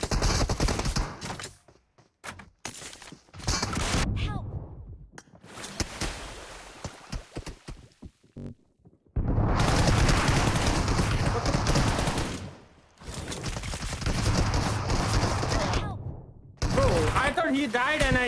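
Heavy gunfire rings out during a PUBG Mobile match, with long sustained automatic bursts and scattered single shots, loud and near, broken by brief pauses and mixed with in-game effects and talking.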